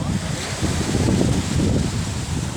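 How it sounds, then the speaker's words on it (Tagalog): Strong ocean waves surge and wash continuously, a heavy, rumbling churn of surf with some wind noise. "tinan mo, lakas ng alon"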